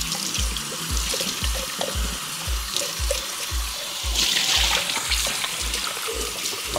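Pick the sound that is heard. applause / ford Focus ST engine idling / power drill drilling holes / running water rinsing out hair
running water rinsing out hair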